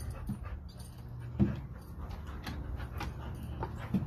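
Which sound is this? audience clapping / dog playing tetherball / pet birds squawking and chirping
dog playing tetherball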